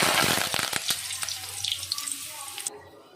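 Paneer 65 frying in hot oil, a close, steady hiss and crackle with scattered sharp pops and scraping stirs, fading out near the end; no one talks.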